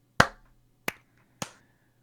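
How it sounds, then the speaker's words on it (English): Three sharp, isolated hand claps spaced about half a second to a second apart, close and crisp, each decaying quickly into near silence, with no talking. "Let's clap on 3."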